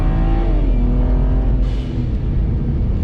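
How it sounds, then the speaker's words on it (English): A car with a 6HP automatic transmission running an xHP stage 3 flash launches at full throttle from a stop. The engine note climbs loudly, eases briefly as it shifts, then keeps roaring. Traction control is on. "And so we're stopped, full throttle."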